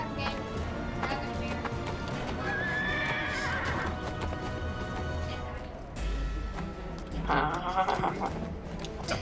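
In the online game Neverwinter, a mounted horse clip-clops at a steady trot and gives two loud whinnies, one early and one near the end, close and clear over the game's background sound.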